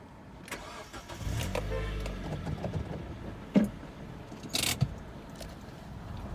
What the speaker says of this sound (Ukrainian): продемонструю, як запускається двигун.